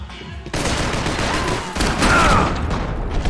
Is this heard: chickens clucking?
no